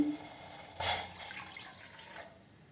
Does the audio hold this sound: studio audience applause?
no